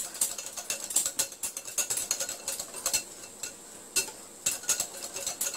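A whisk beating coriander fritter batter in a bowl, rapid rhythmic clicking and scraping strokes in quick bursts, close and clear with no talk.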